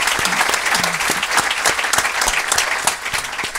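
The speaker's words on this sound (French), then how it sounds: "on peut l'applaudir ?" A comedy podcast audience breaks into steady applause, dense and sustained clapping from a room full of people throughout.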